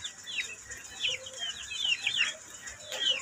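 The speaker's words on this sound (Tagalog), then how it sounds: "Ako'y nalulungkot sa aking mga manok kasi ang lakas-lakas ng ulan." Backyard chickens cluck and chirp in short, bright bursts during the rainy season, the calls scattered and moderately close over a steady hiss of background noise.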